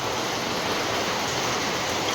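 Heavy rain falls in a dense, even hiss that holds steady throughout, moderately loud with no voices.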